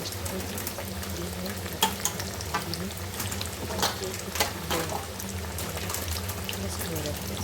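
Fenugreek mathri deep-fry in oil over a medium gas flame, giving a steady bubbling sizzle up close, punctuated by sharp crackles and stirring knocks, with a voice talking faintly beneath.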